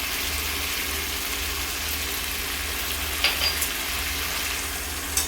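Spinach curry with a rohu fish head being stirred in a pan after a pinch of sugar goes in, a steady low sizzle running throughout with a couple of faint scrapes near the end.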